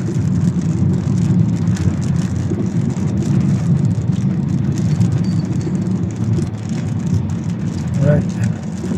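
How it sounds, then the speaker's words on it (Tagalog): Steady rain hisses continuously under a low rumbling background in Butuan City, Philippines, with a constant dense texture throughout and no voices heard. "Ulan, mga idol."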